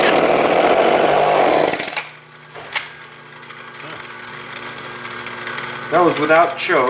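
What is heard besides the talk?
Homelite chainsaw cold start with ether, engine firing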